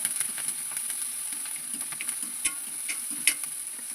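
Garlic, green chilli, onion and curry leaves sautéing in a pan, a steady close sizzle broken by repeated clicks and scrapes of a spatula stirring, with no voices.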